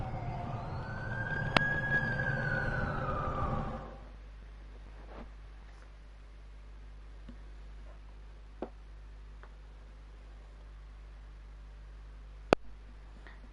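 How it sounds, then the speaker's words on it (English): A loud wailing siren with a sweeping, rising-and-falling tone fills the first four seconds, then cuts off, leaving a low steady hum and a few faint clicks. "That's the ambulance I called."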